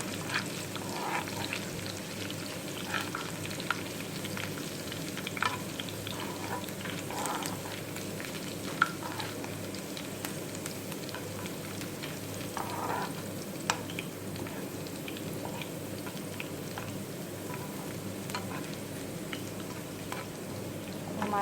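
Onions and spices sizzle steadily in hot oil in a pan for a dal tadka, a continuous close frying crackle with occasional soft stirring clinks and no talk.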